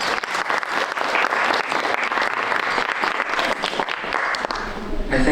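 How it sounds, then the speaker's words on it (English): Loud audience applause at a peace symposium, a dense, sustained roar of many hands clapping at full strength, with a few louder individual claps and a slight tail-off near the end. "round of applause, please."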